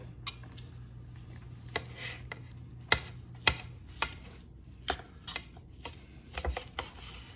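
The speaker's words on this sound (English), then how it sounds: "now we're gonna slice it up and see how we did" A knife slices grilled beef picanha against the grain on a board, producing a run of soft, irregular cutting taps and scrapes. The cuts are close and fairly quiet, with a low hum in the background.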